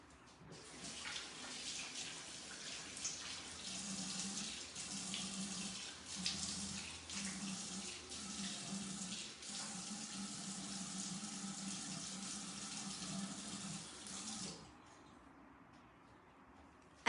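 A tap runs steadily into a sink during face washing, a continuous close hiss of flowing water with small splashing shifts that stops abruptly near the end.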